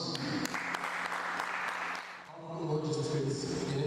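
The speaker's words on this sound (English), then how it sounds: "A round of applause." An audience claps in sustained applause at a December 2020 gathering honoring a guest speaker, dense and continuous, fading briefly then swelling again with some cheering.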